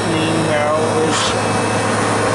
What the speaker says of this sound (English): What's happening now is the compressor's pumping down.